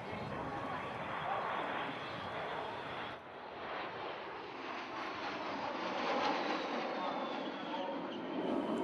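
Military jets, including Finnish Air Force Hornets and Dutch F-16 fighters, roar overhead at the Turku air show, a continuous loud broadband rush that swells and fades slightly as they pass, with crowd noise beneath.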